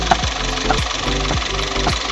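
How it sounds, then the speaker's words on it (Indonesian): A used car engine idles with a steady, evenly spaced ticking knock repeating about every half second over a continuous hum, heard up close. "Jadi terasa tek-teknya ini berirama,"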